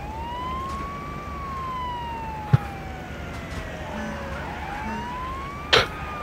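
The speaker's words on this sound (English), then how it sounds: "Hey, the siren's on." Police car siren in the video game Wobbly Life, a steady wailing tone that rises and falls slowly over a continuous rumble of traffic, with a couple of sharp clicks and knocks in between.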